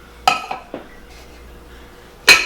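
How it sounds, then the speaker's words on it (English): Wet and dry dredge for a pork chop sandwich being mixed together in a bowl: a few loud, close clinks and knocks of a utensil against the bowl, separated by quiet pauses, with no speech. "So Elsie's mixing this in the wet and the dry dredge together"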